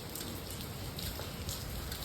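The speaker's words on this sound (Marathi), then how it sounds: "आता काय पाऊस पाऊस पाऊस." Steady rain falls close by on an outdoor surface, a dense continuous hiss with scattered droplet taps throughout and no speech.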